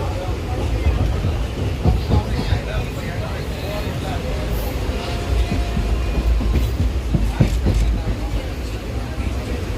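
Steady rumble and rattle of a moving passenger train carriage, with rhythmic wheel clatter and faint voices talking in the background throughout.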